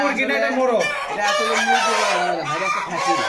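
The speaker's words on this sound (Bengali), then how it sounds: "এই মুরগটা যদি একটু ধরে দেখাতেন" Tiger chickens at a large poultry farm cluck and crow close by in a busy, continuous chorus of overlapping calls and drawn-out crows.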